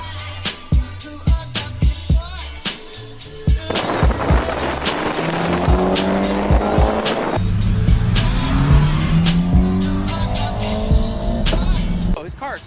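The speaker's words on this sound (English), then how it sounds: "Oh, his car is fucking fast." A fast Mitsubishi Evo X accelerates hard, the engine note sweeping up through the gears with loud rising tones after a stretch of sharp knocks and clatter, while people talk nearby.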